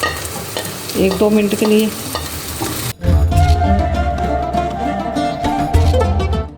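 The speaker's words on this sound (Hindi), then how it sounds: "अब हमने गाजरें ऐड कर दी, इसको भी थोड़ा करना है हमने फ्राई" Carrots stir-fry in a hot pan for Singaporean rice, with steady sizzling and a spatula scraping and tossing. A brief voice is heard at the start.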